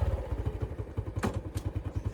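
A motorbike ridden on the outskirts of Hanoi, its engine thumping in a fast, even rhythm close by, with a brief clatter and rattles over the steady pulse.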